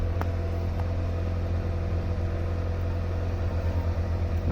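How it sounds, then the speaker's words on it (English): A 2012 VW Passat engine idles steadily at close range, a constant low hum and rumble with a faint ticking, running alone without talk. "So the engine is running now."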